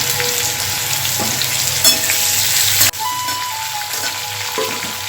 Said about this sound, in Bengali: এবার আমি ফুলকপিগুলো ছেড়ে দেবো